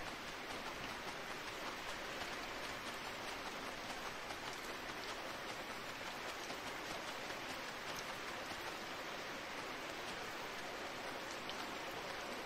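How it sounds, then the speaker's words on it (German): Steady video game rain in Starsand hisses evenly throughout, a constant soft patter with no breaks and no voices. "Das ist halt ein richtig langer Regen."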